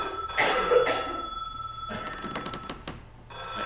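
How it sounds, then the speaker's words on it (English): A telephone rings in short repeated bursts against a quiet room, with a pause before it starts again. "I hate it when the phone rings."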